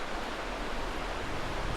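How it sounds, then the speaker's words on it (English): Steady broadband roar of ocean surf along the Oregon coast, a continuous even wash heard from a distance with no talk. "There's your ocean."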